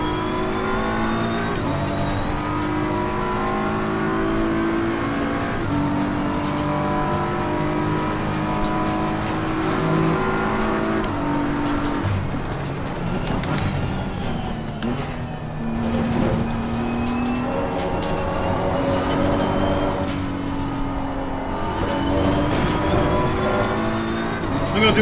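A race car in the Assetto Corsa Competizione sim racing game, driven with Fanatec Clubsport V3 pedals, drones and revs continuously through gear changes and braking, with engine pitch rising and falling over a lap while someone talks intermittently.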